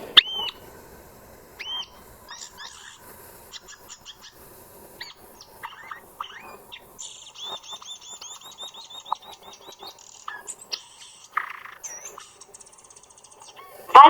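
A violaceous euphonia sings a long, varied run of chirps, trills and mimicked calls, bright and fairly close, with irregular bursts and brief pauses throughout and no voices.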